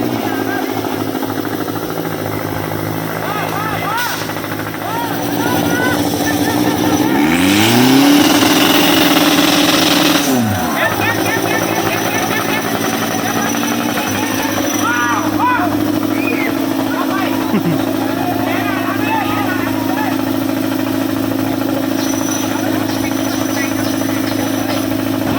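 A car engine idles with a mid-pitched hum, then revs up and falls back in a rising and falling sweep before settling to idle again. It is loud and close, with faint voices and background noise around it.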